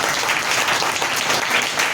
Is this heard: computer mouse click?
no